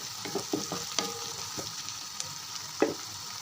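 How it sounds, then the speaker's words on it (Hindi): Onions frying in a pan, a soft continuous sizzle broken by scattered scrapes and taps of a spoon stirring them, with a sharper knock near the end; quiet and close, no talking. "प्याज भी हमारा साथ साथ फ्राई हो रहा है।"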